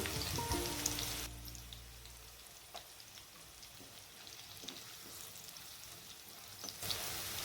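Garlic and green chillies sauté in oil with asafoetida for Maharashtrian methi bhaji, making a soft, continuous sizzle like light rain. A louder burst of frying opens the sound and another comes near the end.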